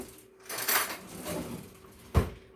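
A metal teaspoon clinks and rattles against dishes and other utensils, with a sharp close knock near the end. No one talks.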